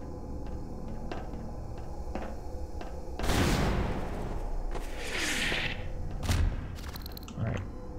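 Half-Life 2 gameplay with scattered sharp impacts, then a loud burst of gunfire and explosive blasts mid-clip, followed by a few more cracks and clatters.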